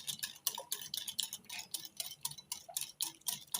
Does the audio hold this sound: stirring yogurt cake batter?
yes